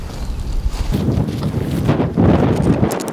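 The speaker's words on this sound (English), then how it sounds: "It's a windy, sunny day." Wind buffets a microphone outdoors on a windy, sunny day, a rough, gusty low roar that swells and fades unevenly throughout.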